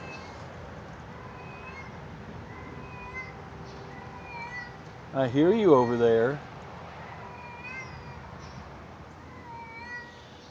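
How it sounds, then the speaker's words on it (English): A stray cat gives a single drawn-out meow close by, standing out over a quiet background with faint birdsong, while someone speaks softly around it. "There's a stray cat that's been hanging around"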